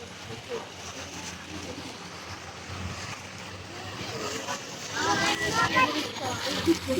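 Water waves slap and wash around a small boat, with wind buffeting the microphone throughout and the splashing growing louder and rougher toward the end.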